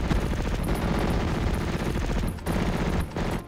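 An M1919 machine gun fires in a World War II Normandy battle game, a loud, sustained burst of rapid automatic shots with two brief gaps in the chatter.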